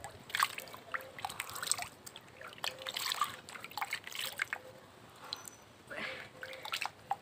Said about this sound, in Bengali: মুখটা ধুয়ে নিই।